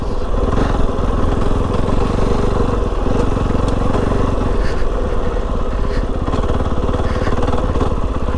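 A Kove 450 Rally dual-sport motorcycle engine thumps steadily at low revs while riding on 50/50 tires, a loud, even mechanical pulse with clattery texture and no speech.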